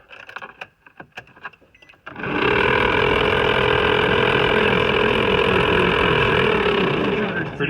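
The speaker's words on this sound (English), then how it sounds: "the issue with this vehicle and the blower motor right now is the bearings are out of it" Worn-bearing blower motor in a 2006 Nissan X-Trail switches on after a few faint clicks and knocks, then runs with a loud, steady, rough whirring drone that continues to the end.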